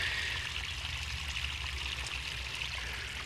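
Spring water welling up from the ground and trickling over stones in a mostly dry riverbed, a steady close babbling flow with no talk.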